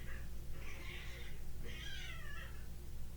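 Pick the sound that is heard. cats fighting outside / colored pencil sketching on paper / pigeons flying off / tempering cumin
cats fighting outside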